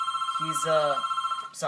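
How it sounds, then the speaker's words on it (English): A telephone rings with a steady electronic warbling tone that pulses throughout, while someone briefly speaks over it. "That was a phone ringing."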